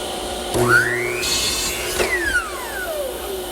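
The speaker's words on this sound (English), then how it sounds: "All I have to do is use my miter gauge and a saw blade to remove material to make this little tongue" A table saw blade cuts a tongue in wood guided by a miter gauge: the motor's whine rises as the blade bites, a rasping cut for about two seconds, then the pitch winds back down.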